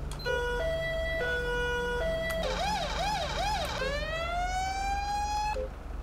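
A British-style police car siren in GTA 5 with the LSPDFR mod sounds loud and alone, switching between two-tone hi-lo notes and a fast warbling wail, then a long rising whoop.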